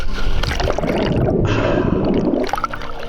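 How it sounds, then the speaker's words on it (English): Someone jumps off a sailboat into the sea, a loud close plunge followed by continuous churning, bubbling water around the hull. "Splash."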